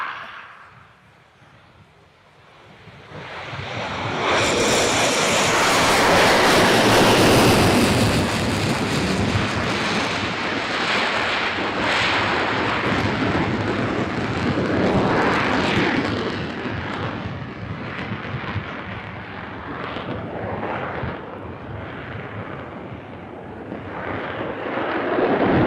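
Fixed-wing aircraft under full power during an airshow flying display, a loud roaring engine swell that builds after a quiet start and rumbles on with wind buffeting for over twenty seconds.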